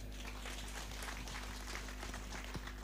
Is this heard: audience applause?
yes